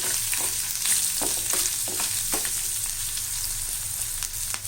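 Green chilies and finely chopped ginger frying in hot oil for lemon rice, a loud continuous sizzle with repeated light scraping stirs of a spoon in the pan, no talking.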